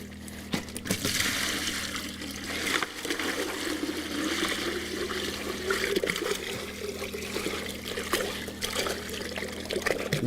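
Water and gold concentrates pour and trickle steadily into a bucket nearby, a continuous splashing stream over a low background hum, with no talking.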